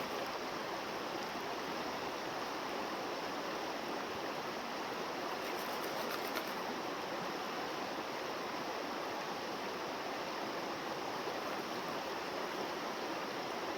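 Steady, full rushing of a river prone to flooding in the UK, flowing continuously and evenly without breaks, heard on its own with no talking.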